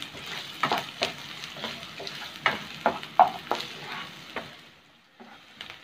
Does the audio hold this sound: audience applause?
no